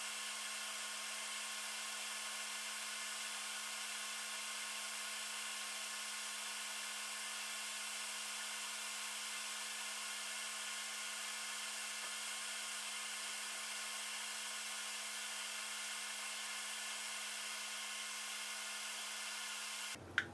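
Hot air rework station at 450 degrees Celsius and 30% airspeed blowing on a damaged Nintendo Switch board, a steady, even hiss that holds unchanged throughout and cuts off at the very end.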